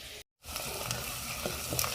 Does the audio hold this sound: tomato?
yes